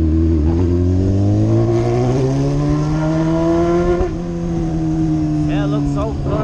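Honda CBR600F motorcycle revving hard through its exhaust pipe close up, a loud, rising and falling roar with a brief dip midway and a blip near the end.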